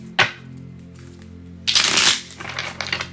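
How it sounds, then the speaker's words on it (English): A deck of tarot cards is shuffled by hand: a single sharp snap, then a louder, longer riffling burst followed by softer rustling shuffles, close up with no talking. "The deck doesn't want to shuffle anymore"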